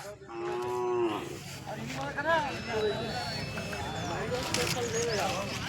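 Hallikar native cattle lowing at a busy cattle market, several drawn-out moos rising and falling close by, with people chattering and market noise underneath.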